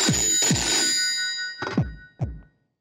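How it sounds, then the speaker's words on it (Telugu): A telephone rings inside a house in loud, close bursts of bright electronic tones, two quick rings followed by two shorter ones before it stops. "లోపల ఫోన్ మోగుతుంది"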